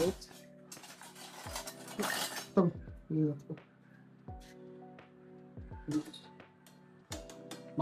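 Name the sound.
handling spoons and dishes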